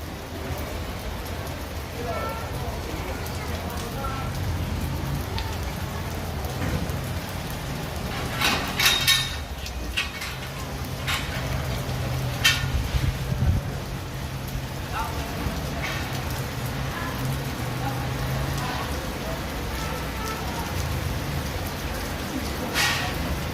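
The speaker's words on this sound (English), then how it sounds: "Now it's raining." Rain falling steadily during a walk through the streets of Pasacao in the Philippines, a dense continuous hiss of drops with a few brief louder splashes, close around the listener, with some voices faintly mixed in.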